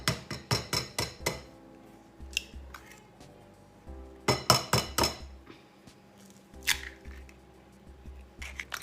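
Eggs cracked against a bowl and dropped into mashed banana, heard as two clusters of sharp, close taps and glassy clinks with quieter knocks between them and no talking.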